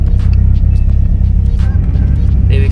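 A car's suspension being raised by remote control, front then rear, giving a loud, close, continuous low mechanical rumble with a few brief hissing bursts over it and no talking.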